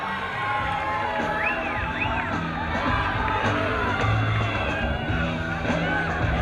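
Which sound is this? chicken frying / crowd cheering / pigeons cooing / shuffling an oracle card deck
crowd cheering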